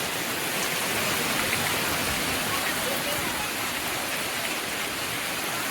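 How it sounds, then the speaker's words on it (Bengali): Heavy rain pours steadily outdoors at dusk, a dense continuous hiss with gusting wind, loud and unbroken, with no talking. "হাওয়ার সাথে সাথে বৃষ্টি, প্রচুর জোরে বৃষ্টি এসছে"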